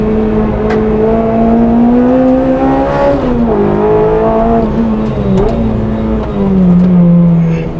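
A 245 bhp Honda Integra DC5 Type R with a 5.3 final drive revs hard on a track, engine note climbing, dipping at quick gear changes and climbing again, loud and close from inside the car.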